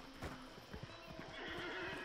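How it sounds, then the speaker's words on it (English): Horses in the video game Hunt: Showdown neigh and whinny over a steady clip-clop of hooves and a constant ambient game background, with no talking. "Stupid horses."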